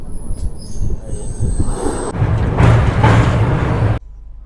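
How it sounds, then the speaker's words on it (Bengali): Kanchankanya Express running on the Sealdah to New Mal line, a loud steady rumble of wheels on rails with squealing and a brief sharp change in tone midway, cutting off near the end. "আর কাঞ্চনকন্যা এক্সপ্রেস কিন্তু খুব সুন্দর চলছে"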